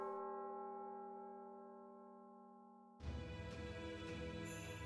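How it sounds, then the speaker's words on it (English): A bell in Fate/Grand Order rings out as a sustained, faint tolling tone that slowly decays, then a sudden louder burst of ringing, chiming game sound takes over for the last couple of seconds. "What is that bell?"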